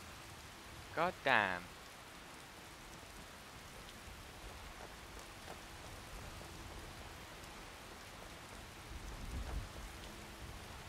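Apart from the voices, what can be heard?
rain in the video game Skyrim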